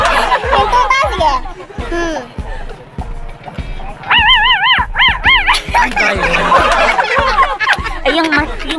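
A person imitates a puppy, the voice making a run of short yips and whimpering barks with a few longer whiny howls in the middle, close and fairly loud.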